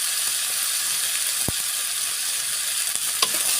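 Bottle gourd peel and potato frying in a pan, a steady close hiss of sizzling oil that runs without a break, with a single sharp knock and a few faint scrapes.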